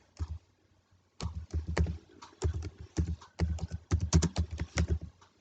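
Keystrokes on a computer keyboard, typed in quick bursts with short pauses between them, close and moderately loud, with no talking.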